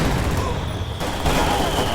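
Submachine gun fire from shock troops in a strategy video game, a brief, loud, steady stream of rapid shots sustained for about two seconds.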